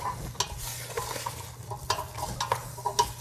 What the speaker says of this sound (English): I will just give these a stir.